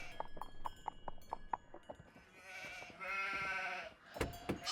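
Sheep bleat in the Nancy Drew game The Haunting of Castle Malloy, with several drawn-out calls and a longer wavering bleat after a run of light hoof-like clip-clops, all fairly faint and without talk.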